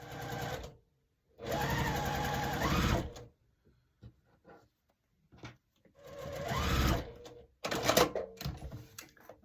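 A sewing machine stitches rows of a pressed-flowers quilt block together in two long bursts and then a third, loud and close, with short pauses and small handling clicks between runs.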